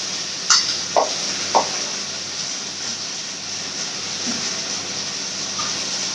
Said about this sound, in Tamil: காயை போட்டு வதக்கலாம்